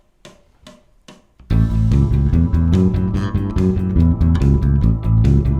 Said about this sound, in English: you can always straighten out the 8th notes as well, and that'd sound like this.